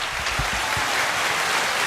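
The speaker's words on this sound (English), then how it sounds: "Give us a round of applause for Girth, y'all." A short, dense burst of audience applause, steady broadband clapping at an even level with a few low thumps near the start.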